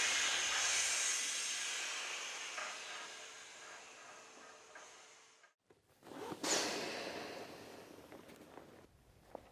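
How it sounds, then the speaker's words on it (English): Pressurized CO2 gas hisses steadily out of a Patagonia PSI surf inflation vest's dump valve, a long fading release that trails into silence before a second sharper burst of hissing flares up and tapers off, close and alone. "then release with the dump valve"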